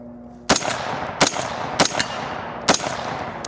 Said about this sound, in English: I'm gonna shoot some rounds down range. That's way louder.